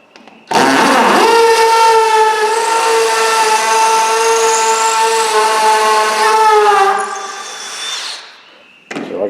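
A power drill drives long Tapcon screws into a garage wall while a workbench is mounted, giving a loud, close, high-pitched motor whine that holds for about six seconds, fades, then returns in a short final burst.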